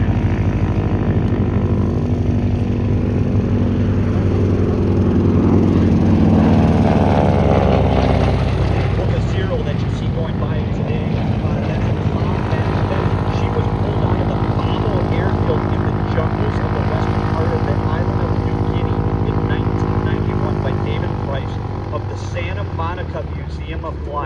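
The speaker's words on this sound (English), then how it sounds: "in that first plane of the bright yellow, that's the SNJ" A bright yellow SNJ propeller trainer roars past at an air show, its loud droning engine and prop note rising then sliding down in pitch as it passes, with an announcer talking over it throughout.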